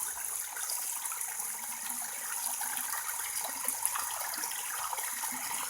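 Water runs through a 4-inch drain pipe about a quarter full, a faint, steady gushing hiss with light rattling, continuous and without talk.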